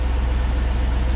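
A GMC Yukon idles close by as it backs slowly out of a garage, a low, steady engine rumble that pulses evenly for about a second, with no talking.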